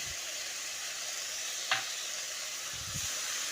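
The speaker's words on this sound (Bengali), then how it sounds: "মশলাটা খুব ভালো করে কষিয়ে নিয়েছি এবার এর মধ্যে দিয়ে দিচ্ছি কুচিয়ে রাখা টমেটো" Chopped tomatoes hiss in a pan of well-fried spice masala for a tangra fish curry. The steady, moderate sizzle carries one brief clink and a soft stir.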